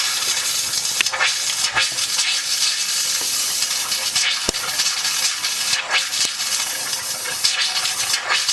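Air hissing and sputtering from a hot water heater drain line during flushing, a steady loud broadband rush broken by brief spurts and pops, with no voices.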